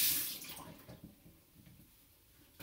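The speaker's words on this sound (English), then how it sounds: "we're going to put our hands under the water" Water running from a sink tap onto hands being washed, a steady splashing hiss that starts strongest and settles into a softer continuous flow, close by with no voices.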